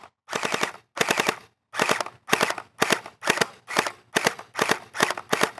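A Dude Perfect gel blaster fires gel rounds over a chronograph in rapid automatic bursts, about ten sharp, close rattling volleys, each separated by a brief pause.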